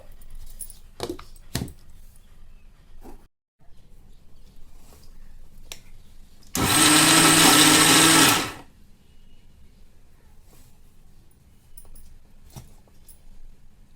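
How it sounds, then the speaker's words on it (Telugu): A kitchen mixer grinder whirring through steamed-dumpling rice batter in one loud, steady burst of about two seconds, set between quieter clinks and handling noises. "మిక్సీ పట్టేసుకుందాము"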